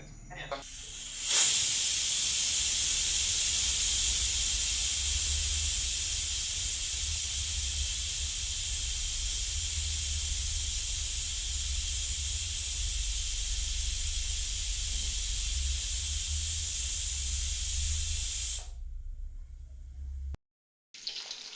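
A loud, sustained hiss of a pressure cooker releasing steam while cooking lentils, starting abruptly, holding strong for many seconds, then cutting off.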